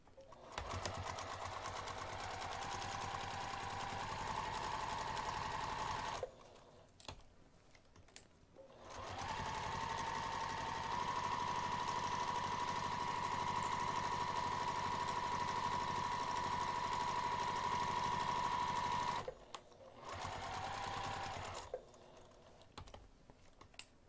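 A sewing machine stitches the sides and bottom of a bag panel with an eighth-inch seam, running in three steady bursts, the long middle run lasting about ten seconds, each separated by brief pauses.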